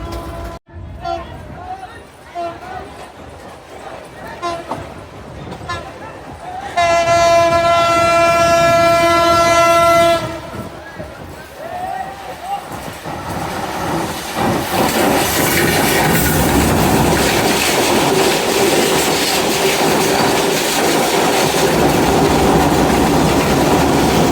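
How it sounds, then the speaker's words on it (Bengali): Chattogram Mail train departing Sitakunda railway station: a loud sustained horn blast of about three seconds rings out, then the carriages roll on with building rumble and clatter, heard close from on board, with some talk. "আমরা এখন ছেড়ে যাচ্ছি সীতাকুণ্ড রেলওয়ে স্টেশন,"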